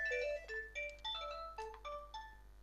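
A telephone ringtone plays alone during an Xbox One game session, a melodic sequence of bright electronic tones in repeating phrases, close and clear.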